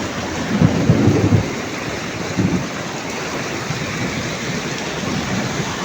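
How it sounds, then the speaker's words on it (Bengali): Heavy rainfall roars continuously in Malaysia, with a deep thunder rumble swelling early and again a little later, no one speaking. "আজকে প্রচুর বৃষ্টি হইতেছে"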